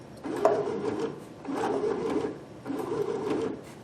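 A Baby Lock Sashiko sewing machine runs in three short bursts, each a steady mechanical whirring with rapid stitching clatter, close up with brief pauses between them.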